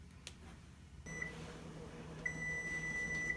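An oven timer beeps while a chocolate cake bakes, a high steady tone sounding briefly, then again in a longer run of beeps over a low hum.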